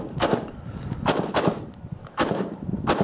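Rifle shots at a USPSA multigun nationals match, fired on a 1-power scope at close paper targets about 30-40 yards away, crack in a quick series of about six loud, near reports in uneven pairs, each with a short echoing tail and no talking.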